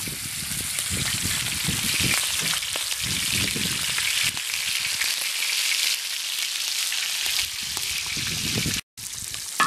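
Pieces of lamb offal fry in oil on a metal griddle set over a wood fire, giving a loud, steady broadband sizzle with occasional low thumps and crackles and a brief dropout near the end.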